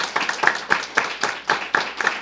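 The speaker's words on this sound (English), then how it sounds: "round of applause for them. They deserve it." Audience at an ESN Slovakia national assembly in Nitra claps for the national board, a lively, fairly rhythmic round of group clapping heard close and clear.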